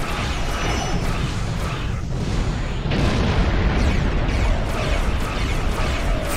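Starship torpedoes fire and explode in the space combat game Star Trek Online, a dense continuous roar of booming blasts and rumbling detonations, loud and close, surging stronger midway.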